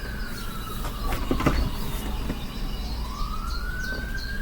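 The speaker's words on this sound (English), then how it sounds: "There's sirens in the background." Sirens wail faintly in the distance over a steady low rumble of outdoor background noise, the rising and falling tone drifting through the few seconds.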